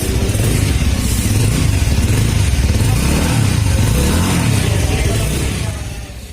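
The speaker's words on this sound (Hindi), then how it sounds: "इस बाइक की एग्जॉस्ट नोट कैसी है।" Bajaj Avenger 220 Cruise BS6 motorcycle revving close by, a loud, steady thumping exhaust note that holds for several seconds before easing off at the end, with no talking.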